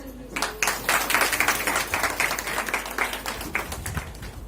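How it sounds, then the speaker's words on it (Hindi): An audience at an award ceremony gives steady, dense applause for a woman receiving an IT award, the clapping loud and continuous throughout with a voice faintly over it. "तालियां रुकनी नहीं चाहिए।"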